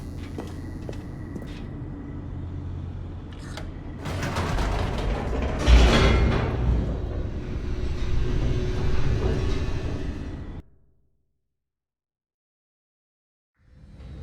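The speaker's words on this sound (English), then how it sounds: "The elevator raced downward, plummeting towards an unknown fate." An elevator in The Stanley Parable drops fast with a steady mechanical rumble and creaking rattle that swells into a louder rushing surge midway, then cuts off abruptly into silence near the end.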